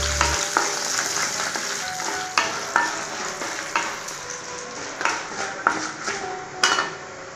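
Dried red chilies and chana dal fry in oil for a capsicum chutney, giving a continuous crackling sizzle with sharp metallic taps and scrapes of a spoon against the pan at irregular intervals, close and clear.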